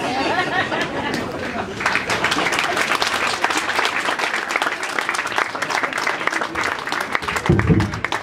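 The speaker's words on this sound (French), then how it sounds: "Merci d'applaudir encore" Sustained audience applause at a public gathering in French, dense and steady throughout, with crowd chatter mixed in and a louder burst near the end.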